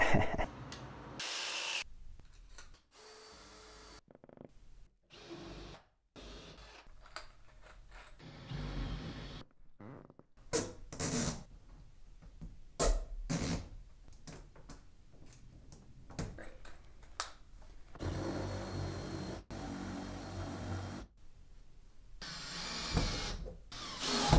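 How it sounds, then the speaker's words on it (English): A Phillips head screwdriver driving screws to tighten a shelf into a wall for alcove shelving, giving irregular close ticking, clicking and rubbing bursts separated by short quiet gaps. "you just take a regular Phillips head screwdriver and just tighten it and make sure it's super tight"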